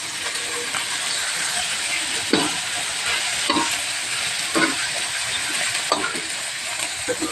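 String beans stir-fry with Chinese sauce in a hot pan, a loud continuous sizzle and hiss broken by repeated scraping strokes of a utensil every second or so, close and steady.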